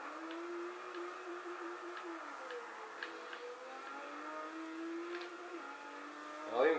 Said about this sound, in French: Faut rester en troisième avec la Skyline pour faire du drift.